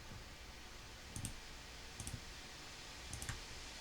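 Mouse clicks on a computer running Mastercam 2022 CAD/CAM software while a wireframe split function is used: three separate double clicks spaced about a second apart, faint and alone over a steady background hiss.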